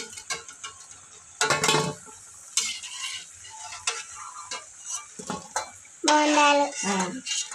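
Rice punugulu fritters fry in a pan while utensils clatter and scrape against it, with a few louder bursts of stirring over a soft sizzle.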